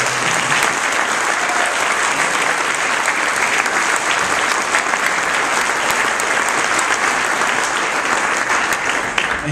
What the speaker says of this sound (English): So I'll give a round of applause to those people.